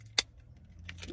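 A set of keys on a keychain gives a short, bright jingle near the start, then a fainter second rattle toward the end, close up in a quiet room.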